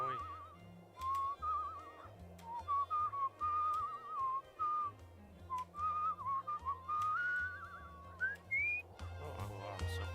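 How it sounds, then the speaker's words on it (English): A melodic whistled tune carries on alone over a low, steady backing of game music, with short pauses between phrases, from a character in the video game Where The Water Tastes Like Wine. "Oh, I'm so busy whistling"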